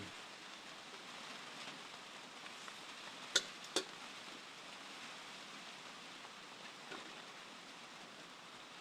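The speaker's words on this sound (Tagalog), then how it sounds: "Ulan." Soft, steady rain falling continuously in the background, with a couple of brief sharp ticks partway through.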